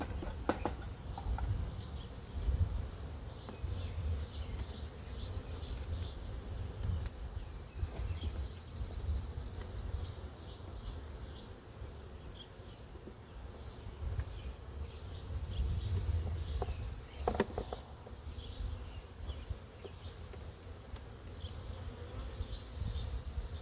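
Honeybees in a hive make a steady low buzz throughout, dense and continuous like many bees massed together, with a few brief louder swells.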